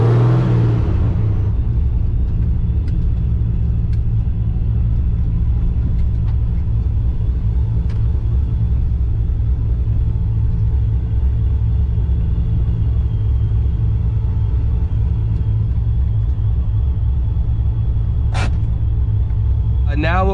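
A boosted Pontiac GTO engine runs steadily at close range, a loud deep continuous rumble idling throughout with a brief rev at the start and someone talking over it.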